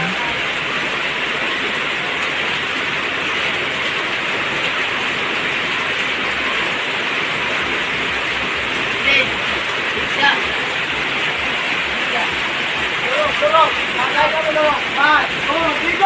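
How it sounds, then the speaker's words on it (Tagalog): Heavy afternoon rain pours down steadily as a dense, close hiss while children bathe in it; a few faint voices rise briefly near the end. "chance na makaligo yung dalawa ng ulan"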